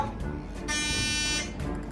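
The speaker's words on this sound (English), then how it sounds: "So we'll be having a low budget app buzzer." A short electronic buzzer tone sounds for under a second, flat and steady, amid faint room noise before and after.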